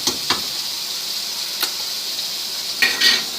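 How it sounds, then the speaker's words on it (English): Spam yellow rice in Puerto Rican style being stirred at the bottom of a pot, a steady hiss under scattered metallic scrapes and clinks of the spoon against the pot, a few louder knocks near the end. "make sure that you stir everything in the corner"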